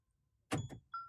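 A Mahindra XUV700 locking: a sharp mechanical clunk of the door locks followed by a second thunk, then a brief electronic beep-like tone, close and clear with no talking.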